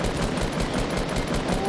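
Carbine gunfire in Fortnite Battle Royale rattles off in a fast, even burst of repeated shots, loud and dense, with no break across the short stretch.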